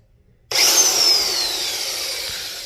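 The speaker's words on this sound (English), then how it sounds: "And then we're gonna use our trusty dusty Harbor Freight impact." A Harbor Freight impact wrench starts abruptly and whirs loudly and close while working on a bolt on a 1995 Honda Civic coupe, holding a steady high-pitched drone that fades slowly over about two seconds.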